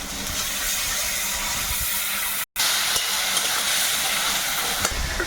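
Tomato paste hitting a pan of frying onion and ginger-garlic paste, a loud continuous hiss and sizzle up close, cut by a brief silent gap midway before resuming.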